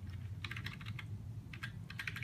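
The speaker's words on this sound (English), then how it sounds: "This keyboard is old and junky." Keys clatter on an old, junky computer keyboard in quick irregular bursts, close up, with short pauses between clusters of taps over a low steady hum.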